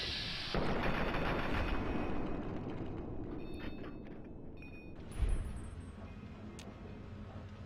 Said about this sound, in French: Fusil d'assaut chinois.